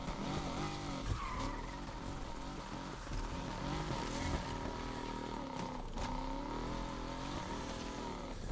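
A car drifting in Need for Speed Unbound, a video game, sends up a steady, loud tire squeal with wavering pitch over a droning engine that revs and dips throughout, with no talk.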